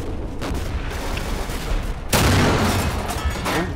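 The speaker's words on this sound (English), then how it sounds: "It was two plasma shots." Video game gunfire in a Berlin street fight, a sustained rattle of shots that swells into a louder, harsher burst partway through, with no talking.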